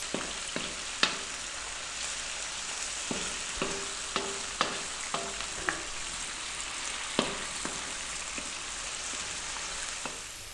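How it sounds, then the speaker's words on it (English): Onion frying over fairly high heat gives a steady hiss of sizzling, punctuated by regular sharp taps and clicks as it is stirred around the pan, close and fairly even in level. "We're going to drop in our onion. And we're going to stay on a fairly high heat"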